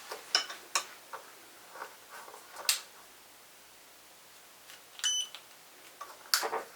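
Near a home photography studio light, a few faint, short electronic beeps and clicks sound sparsely over quiet room noise, with brief taps and handling sounds in between.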